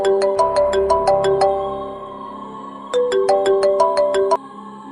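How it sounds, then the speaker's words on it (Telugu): A mobile phone ringtone plays a bright, looping electronic melody, two loud bursts of the same tune separated by a short pause, with no voices. "ఎత్తురా ఫోన్."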